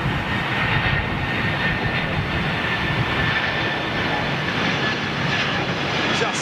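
A jet airliner touches down on the runway at London Heathrow, a steady loud roar of engines and rushing air that holds evenly throughout, with no voices.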